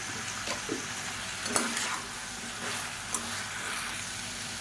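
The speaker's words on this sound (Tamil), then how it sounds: "இப்போ இதை எண்ணெயில் வதக்கி விட்டுக்கலாம்." Vegetables sautéing in hot oil for a Tamil kulambu, giving a soft, steady sizzle with a few faint clinks and stirring scrapes, fairly quiet and with no voice.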